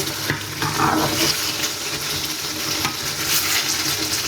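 Sweet, sour and spicy mango pickle cooks in hot oil in a pan, with a steady, fairly loud sizzle and frying hiss under scraping stirring strokes.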